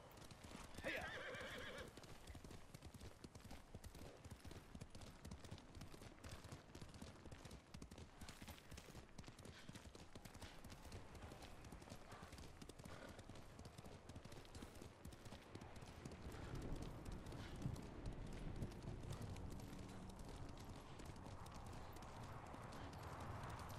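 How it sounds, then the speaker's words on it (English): The horse Kaze galloping in the video game Ghost of Tsushima: rapid, continuous hoofbeats pounding close up, with a neigh early on, over a busy rush of ambient game noise, running steadily the whole way. "we've got our new horse, Kaze"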